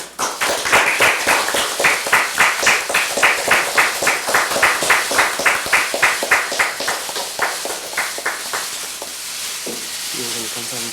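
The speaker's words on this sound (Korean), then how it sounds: "박수 부탁드립니다." Rhythmic clapping in unison from an audience at a political party event, a steady beat of loud claps that breaks up and fades near the end.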